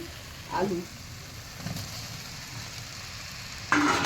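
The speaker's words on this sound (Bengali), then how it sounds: "আদাটা যেহেতু দিয়েছি, অল্প আদাটা নাড়বো। এইভাবে মশলাটা কষলে মাংসের ধুলার মতো গন্ধ করেন।" Ginger and spices fry in a pan for a jackfruit curry, a low steady sizzle with a few brief stirring scrapes and a louder burst near the end.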